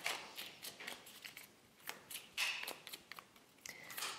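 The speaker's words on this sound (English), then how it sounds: "let's go ahead and shuffle these cards right here" Tarot cards being shuffled by hand, with a run of crisp, irregular riffling and flicking bursts close up and fairly quiet, no talking.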